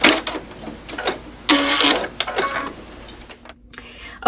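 A sewing machine stitching a seam in a quilt block: bursts of fast mechanical whirring and rattling, close and loud, separated by short pauses and ending in a brief stop.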